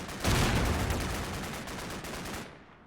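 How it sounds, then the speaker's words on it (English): Heavy gunfire in the Combat Mission Cold War game, where a far flanking anti-tank platoon and engineer squad take fire from two tree lines: a dense, sustained crackle of overlapping shots and bursts that starts abruptly, then fades. "our far flanking element, consisting of the AT platoon and one of the engineering squads, comes under heavy fire from those 2 tree lines up ahead"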